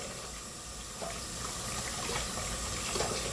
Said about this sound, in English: We're going to turn the water on. We're going to rinse off these lobster tails.